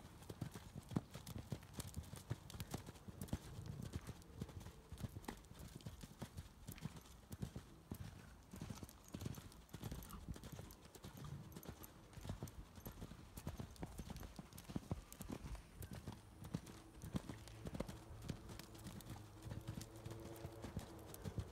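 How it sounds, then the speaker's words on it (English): Horses walking in a riding lesson arena, their hooves clip-clopping in a steady, overlapping rhythm throughout, faint and somewhat distant, with soft voices in the background. "Bring your horses slowly to a halt."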